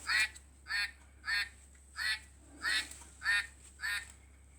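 Ducks quack repeatedly in a steady series of seven loud, evenly spaced calls, heard close and alone over a low constant hum.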